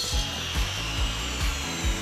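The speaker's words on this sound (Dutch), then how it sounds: "zaag het paneel vervolgens op maat met de afkortzaag" An acoustic panel is cut with a miter saw in repeated short strokes, about five rhythmic rasping pulses close by and loud, over a constant background whine, with no voices.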